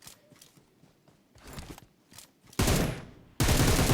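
Groza assault rifle firing in the mobile game PUBG Mobile: after quieter scattered noises, two loud, dense full-auto bursts erupt close up and fill the end, the second running to the cut.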